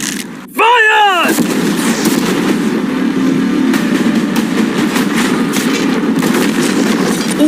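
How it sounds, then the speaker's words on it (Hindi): Cannons fire at a new yacht in a staged stunt, a sharp blast near the start followed by sustained loud roaring, crashing and rumbling debris noise as storage containers on board are torn apart. "अब हम तुम्हारी नई यॉट पर कैनन्स को शूट करने वाले हैं।"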